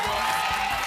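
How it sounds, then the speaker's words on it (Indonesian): Applause and crowd noise at an awards ceremony, a steady dense wash of clapping filling the whole moment without a clear break. "Kasih tepuk tangan lagi dong."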